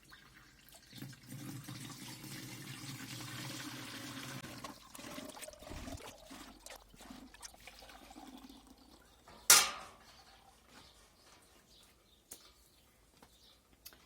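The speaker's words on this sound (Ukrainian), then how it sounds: "Ковшик літровий, тобто 5 ковшиків я вливаю." Water is poured by the one-litre ladle into a garden sprayer tank, a sustained splashing and trickling close by, broken by a few knocks and one sharp clatter.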